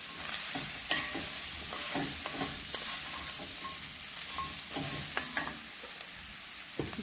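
A wooden spoon stirs vegetables in a cast iron pot over a steady sizzle of frying, with irregular scraping and clacking strokes close up and no talking.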